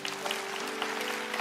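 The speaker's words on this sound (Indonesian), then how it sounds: "yang percaya kasih tepuk tangan" A church congregation applauding during a Sunday service sermon, a short steady burst of many hands clapping with a faint sustained tone underneath and no speech.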